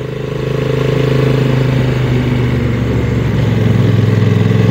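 A 2022 Honda NT1100 DCT motorcycle ridden through curves, its mid-pitched engine humming steadily with a slight rise in revs, close and loud with wind noise over it and no speech.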